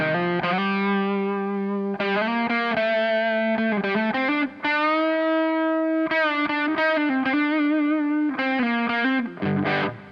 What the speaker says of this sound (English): this is about the overdrive, I mean distortion.